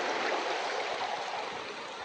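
River water rushes and gurgles steadily around a hiker standing in a cold, braided river channel on the Great Divide Trail, a close, continuous broadband flow with no talking.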